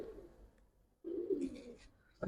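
Silver Giribaz pigeons coo softly in low, rolling notes, a faint murmur that pauses and then returns more strongly, close by and without speech.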